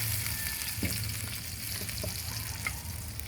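Garlic, onion and ginger frying in oil left from frying dried fish, for a mung bean dish: a steady, dense sizzle, close and even, with a few faint clinks and light stirring touches.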